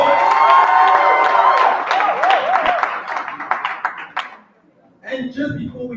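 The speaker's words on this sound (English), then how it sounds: "Give her another round of applause." Audience at a talk applauding and cheering loudly, dense clapping mixed with shouts and whoops, tapering off before a voice begins speaking near the end.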